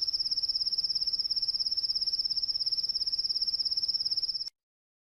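A cricket chirps in a steady, rapid pulsing trill, high-pitched and clear against quiet, then stops abruptly.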